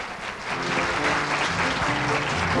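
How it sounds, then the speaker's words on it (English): Audience applause fills a tribute show for Ruth Lyons, a dense, steady wash of many hands clapping close by, swelling slightly after the first half second and holding loud to the end, with faint murmurs underneath. "they deserve another round of applause"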